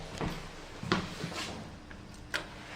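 Lift doors in a Milton Keynes shopping centre slide shut, with a few soft thuds and clicks, quiet and close, and no talking.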